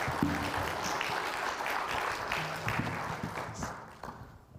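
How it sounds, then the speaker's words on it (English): An audience applauds volunteers at a talk, with steady, moderately distant clapping that holds for several seconds and then thins out near the end. "Can we get a round of applause for these volunteers?"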